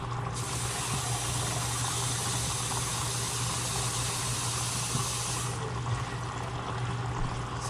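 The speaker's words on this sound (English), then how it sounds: "And then we're going to also add 4 or 5 cups of water." Water pours steadily into a cooking pot of chicken, bouillon and rice, a continuous rushing hiss that holds for several seconds, then thins slightly near the end.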